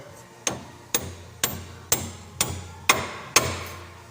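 Hammer blows tapping bolts out of a Land Rover Defender Td5 A-frame during ball joint replacement: eight sharp metallic strikes, close and loud, in a steady rhythm about half a second apart, with no talk.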